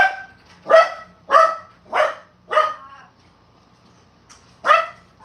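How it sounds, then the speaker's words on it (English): A poodle terrier mix dog barks five times in a sharp, evenly spaced burst at a package delivery, loud and close, with a short pause before the last bark and no talking. "we just got a delivery and our dog is freaking out"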